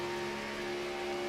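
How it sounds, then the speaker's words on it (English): A race car engine holds a steady high-pitched drone near full throttle, recorded from the nose of the car during a race, a constant loud tonal whine with road and wind noise underneath. "Listen to that engine"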